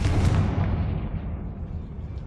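A Confringo fire spell blasts in Hogwarts Legacy, a loud broadband boom that rumbles and fades away over about two seconds, with no voices.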